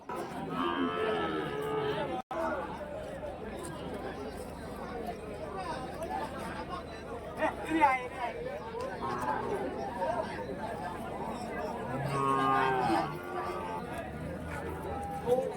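Native cattle and calves at the Vaniyambadi cattle market, with repeated loud moos rising over a busy crowd's chatter while someone talks close by.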